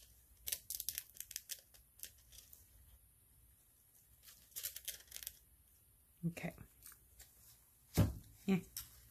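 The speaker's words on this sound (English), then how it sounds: "A little moody piece of foil" Foil crinkles and crumples in several short, close bursts while someone shapes it over a painted rock, with stretches of quiet between them and speech heard around them.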